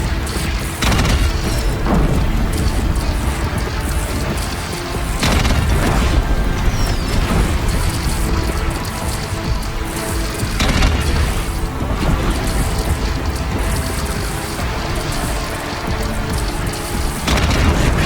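Heavy Deathbringer machine-gun fire and repeated explosions from the Horizon Zero Dawn combat encounter, a loud, dense barrage of booms and impacts that continues steadily throughout.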